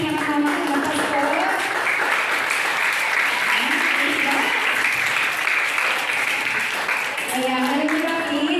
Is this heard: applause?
yes